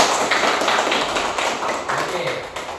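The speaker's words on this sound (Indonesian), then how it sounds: "Beri tepuk tangan" A classroom group claps together during a lesson on Asmaul Husna, a short burst of fairly close, uneven hand claps with some voices mixed in.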